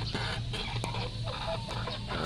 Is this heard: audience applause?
no